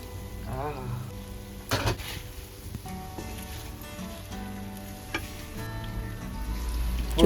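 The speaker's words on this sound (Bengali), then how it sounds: "এবার সামান্য একটুখানি জল দিলাম" Jackfruit and potato pieces sizzle steadily in a pan after a splash of water, with scattered clinks and scrapes of stirring over the frying hiss and a louder burst near the end.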